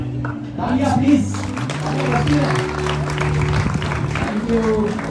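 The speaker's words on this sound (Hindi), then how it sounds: "तालियां प्लीज।" Applause from the audience at an annual function as a participant is called to the stage, a moderate patter of clapping under a loud voice and background music tones.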